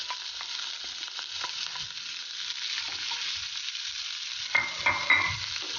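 Broccoli being flash fried with hing in a pan: a steady, bright sizzle that is close and fairly soft, with a few scrapes of stirring near the end and no voices.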